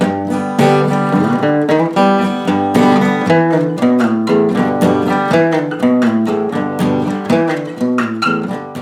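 A reversed bass guitar line plays within a music track, each note swelling up and cutting off abruptly in a steady rhythm.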